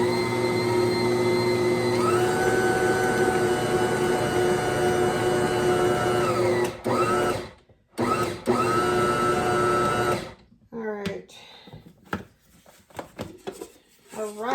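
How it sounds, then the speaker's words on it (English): A KitchenAid stand mixer churns thick muffin dough with nuts, giving a steady whirring motor whine that pauses briefly, runs again for a short burst, and then stops before someone talks. "I'm going to give this a gentle mix one more time just to get the nuts dispersed."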